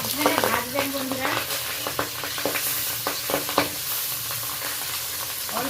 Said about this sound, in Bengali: অল্প অল্প মাছ দিয়ে আমি মাছগুলো সব ভেজে নেব